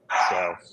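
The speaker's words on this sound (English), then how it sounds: "I don't know if you guys can hear him barking in the background" A dog barks once in the background, a short, fairly loud yelp-like bark lasting under half a second, with a brief spoken word nearby.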